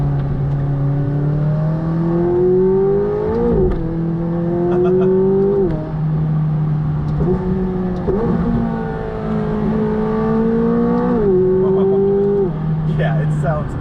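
A 2019 McLaren 570S Spider supercar engine revs loudly and repeatedly, its pitch climbing and dropping in several sustained blips over a steady rumble, close and dominant throughout.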